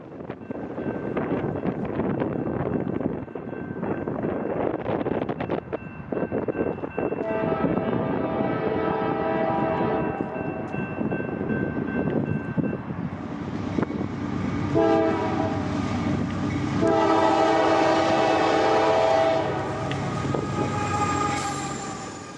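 An NS freight train hauling Amtrak ballast hoppers rumbles past, its horn sounding in long sustained blasts, loud and near, with wind buffeting the microphone.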